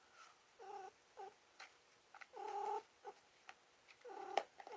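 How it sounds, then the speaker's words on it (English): A house cat purrs and yowls in a quiet room, a series of short wavering meow-like cries and longer drawn-out caterwauls, fairly faint and close, with soft breathy purring between them. "Honestly, I apologize about my cat."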